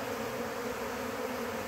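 Bees buzzing steadily around crushed, powdered pollen substitute patty as they collect it, a continuous close insect hum with no talking.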